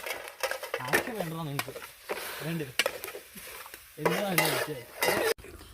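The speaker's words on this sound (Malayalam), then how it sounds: "വീണ്ടും കുറച്ച് നെയ്യ് ഒഴിച്ചതിന് ശേഷം നമുക്ക് പട്ട ഗ്രാമ്പു ബേ ലീഫ് ഏലക്ക ഇട്ട് നമുക്കൊന്ന് വറുത്തെടുക്കാം" Cinnamon, cloves, bay leaf and cardamom fry in ghee in a pan for vegetable biryani, a soft sizzle with stirring clatter under a person talking.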